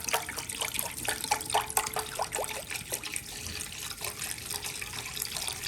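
Tap water runs steadily into a cooking pot, filling it for boiling noodles; a continuous close splashing wash with small dripping ticks, no voices.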